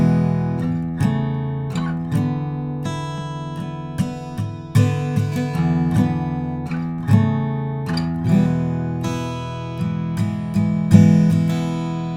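A song played on guitar, with plucked chords and single notes in a relaxed, steady rhythm, each attack ringing out clearly.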